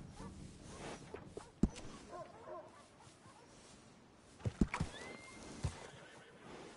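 Horses in a PS4 video game whinny and neigh in a few short, fairly loud bursts, with faint hoof clip-clops and game ambience around them.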